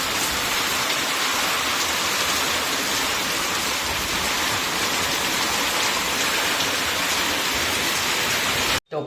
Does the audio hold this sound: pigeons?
no